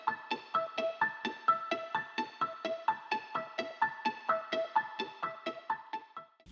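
A plucky synth counter melody produced in FL Studio, with short bright repeated notes bouncing in a steady rhythmic pattern, each with a quick attack and fast decay, alone and moderately loud.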